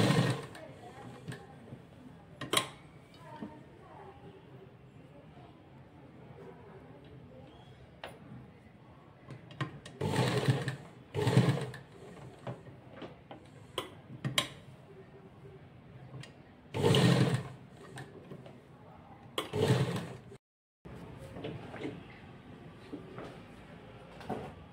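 Sewing machine stitching a second line along the top of a scalloped neckline on cloth, with intermittent bursts of whirring stitching separated by quieter handling sounds, fairly close and moderate in level.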